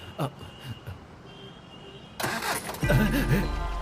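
A car engine cranks and catches, then settles into a loud, steady rumble after a few quieter sounds.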